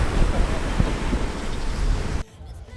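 Steady wind roars across the microphone on Eastern Beach in New Zealand, a dense, close rumble with a hint of surf beneath it that drops away abruptly just before the end.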